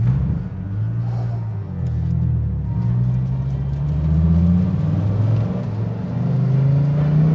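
A Dodge Viper ACR's 8.4-litre, 645-horsepower V10 revs loudly and continuously, its deep rumble rising and falling in waves with no pauses.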